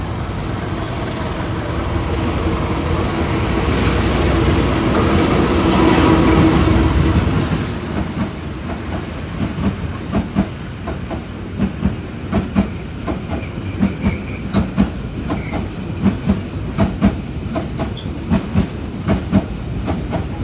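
Brantas economy passenger train running on the rails near Brumbung station, a loud rolling rumble swelling then easing into a steady rhythmic clickety-clack of wheels over rail joints, heard from on board.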